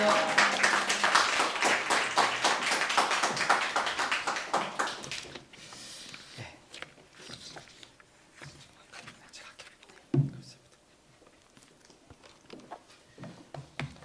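A church congregation claps together for several seconds, a dense wash of applause that fades out, followed by quieter room sounds and a single sharp knock.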